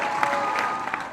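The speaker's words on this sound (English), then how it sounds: "I'd like to ask the graduates to give the people here to support us an applause" Graduation ceremony audience applauding: a brief, dense wash of clapping at moderate level that stays fairly even throughout, with no talk over it.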